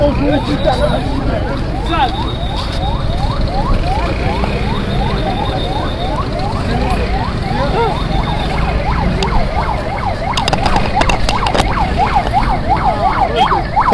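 An ambulance siren wails in rapid repeated cycles at a huge market fire, loud and close over a busy crowd murmur and people talking nearby.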